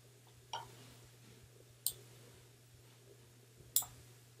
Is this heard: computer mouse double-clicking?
yes